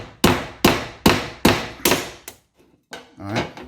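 A hammer strikes a screwdriver to punch out a knockout on an electrical box. About six loud, evenly spaced blows land close up, with a short pause before a final softer hit.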